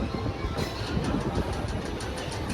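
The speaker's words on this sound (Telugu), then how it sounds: "ఇది వచ్చేసి ప్యాసింజర్ ట్రైన్, అంటే లోకల్ ట్రైన్ అనమాట" A local passenger train at Bagalkot on the Hosapete to Pune route gives a steady, even rumble throughout, without talk.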